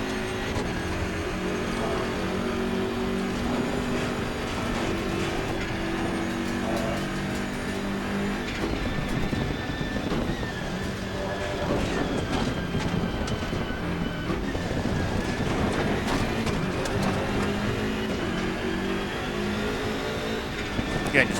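A BMW M6 GT3 race car in Assetto Corsa Competizione at Mount Panorama, its engine droning steadily and loudly throughout with rising and falling revs under light throttle, close and continuous.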